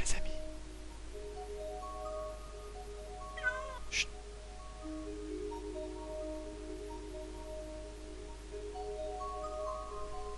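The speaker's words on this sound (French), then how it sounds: "Mais avec le chat qui fait chier" A domestic cat meows a few times, brief and fairly close, with a faint glassy clink among them, over a steady background of sustained electronic or musical tones and low hum.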